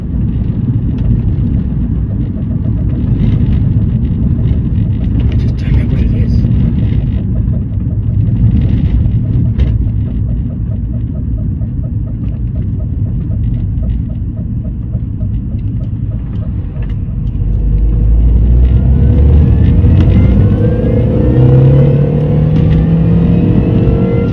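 A Mini Cooper S R53 with a worn wheel bearing drives along, its engine and road noise a steady low rumble throughout, swelling louder with a rising drone and whine in the last few seconds.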